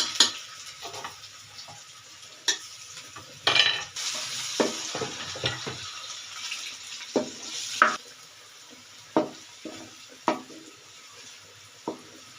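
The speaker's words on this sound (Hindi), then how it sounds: "अब इस स्टेज पे मैं इसमें डालूंगी लहसुन अदरक का पेस्ट।" Garlic ginger paste frying with golden-browned onions in a pan, a soft steady sizzle broken by repeated scraping and clinking stirs of a spoon against the pot, fairly quiet and without talk.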